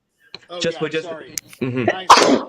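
A single sharp sneeze bursts out near the end, loud and close, during a live online orchestra audition session, following several short spoken remarks.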